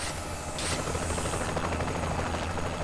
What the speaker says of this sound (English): Damn helicopter, hold still.